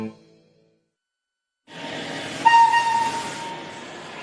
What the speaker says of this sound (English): I'm taking this really old steam engine